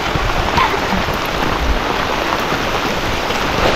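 Heavy rain pouring at Garbett Plateau in Matheran, a loud, close, continuous wash of drops hitting surfaces and water with no breaks.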